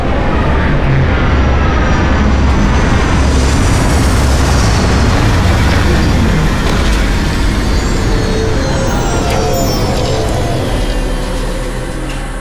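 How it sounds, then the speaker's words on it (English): Spacecraft landing in the video game Starfield with retro thrusters firing: a loud, steady roar of engine thrust with broad rumble, holding strong for about twelve seconds and easing slightly at the end, with no voices. "Landing struts primed, retros firing."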